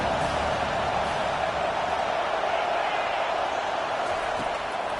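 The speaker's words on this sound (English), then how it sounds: "Decibels rising as the crowd gets behind this defense on third down." A stadium crowd at a football game between Ohio St and Georgia roars steadily in support of the defense on third down, a dense, continuous wall of cheering noise that holds at an even level throughout.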